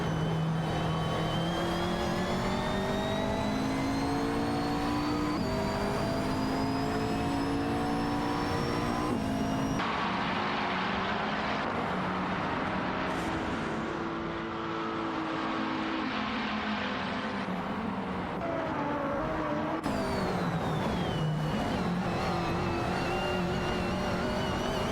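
Simulated race car engines from an AI race in a video game whine continuously and loudly, their pitch rising and falling through gear changes as several cars battle closely, with no talking.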